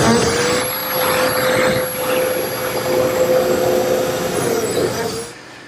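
A biscuit joiner's motor whines steadily at close range while cutting slots in a cabinet face frame for a Shaker bookcase, a continuous hum with a faint high tone that stops abruptly at the end.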